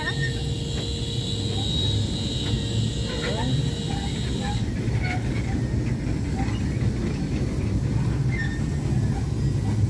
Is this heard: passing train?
yes